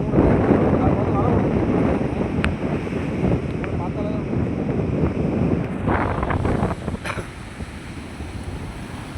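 Sea waves and wind on a rainy shore where a small boat sits offshore, a steady broadband wash of surf and gusting air buffeting the microphone throughout, with someone talking over it.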